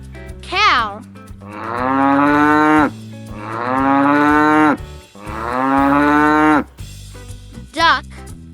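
Three long, loud cow moos, each drawn out over a couple of seconds, sound over faint music, with brief high voice phrases at the start and end.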